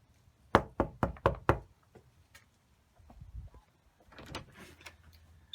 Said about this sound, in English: Let's knock on another door and see who we're going to meet today.